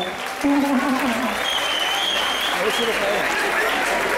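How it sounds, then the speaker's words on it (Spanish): An audience at a town festival proclamation applauds, a steady wash of many clapping hands rising suddenly and holding, with voices and a few shouts mixed in over the clapping. "un aplauso"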